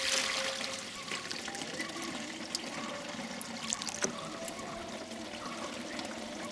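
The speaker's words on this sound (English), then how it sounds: "So let me just put in some water." Water is poured into a GreenStalk stackable planter filled without compost. A soft, steady trickle runs for several seconds with small splashes.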